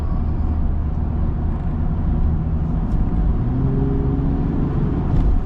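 Land Rover Defender 90 accelerating in comfort mode, a steady, fairly loud engine drone heard from inside the cabin with a slowly rising tone.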